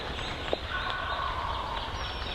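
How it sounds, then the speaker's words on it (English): A wild turkey tom gobbling in timber, a single rattling gobble at moderate distance over quiet outdoor ambience. "See if he moves at all or if he's just down there in one spot gobbling."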